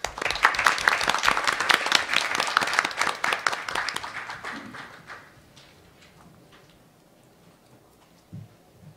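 A forum audience applauds in a hall, brisk dense clapping that holds strong for about four seconds, then thins out and fades to near quiet with a few stray claps and small noises.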